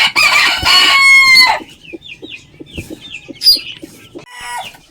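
A hen clucks loudly and close by, with a burst of harsh crowing-like calls at the start, followed by scattered high peeping of chicks and softer clucks in a backyard.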